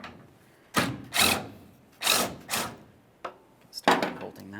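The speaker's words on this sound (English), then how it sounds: "Go ahead and break that nut free." A socket wrench loosens a tailgate nut on a 1999-2006 Chevrolet Silverado 1500. Several separate bursts of ratcheting and turning ring out up close, each about half a second long, with short quiet gaps between them.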